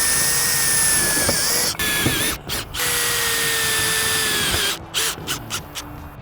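A power drill drives screws into a noise barrier fence module, a loud, steady whirring run that pauses and restarts with short bursts near the end.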